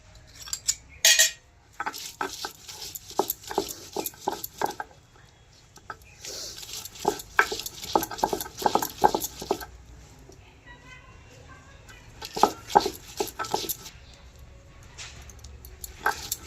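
Onion is ground into a paste with irregular bursts of wet scraping and grinding strokes, separated by short pauses, close and fairly quiet.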